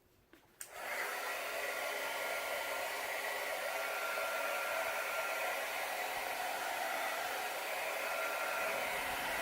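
A heat gun blows hot air over an acrylic paint pour, switching on after a brief click and then holding a steady, loud, close whooshing roar with no talking.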